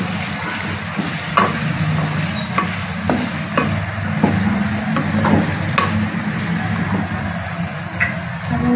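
Vegetable fried rice being stir-fried and mixed in a pan, a loud continuous sizzle broken by repeated sharp scraping and tossing strokes of a spatula, close and fairly rhythmic.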